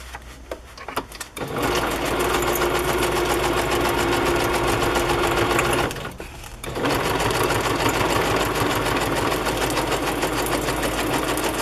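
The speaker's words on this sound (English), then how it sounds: "Now there's some staples here, so I have to be careful not to sew through the staples." A sewing machine stitches through textbook journal pages close to staples, running in a loud, continuous mechanical whir with a short pause midway before starting up again.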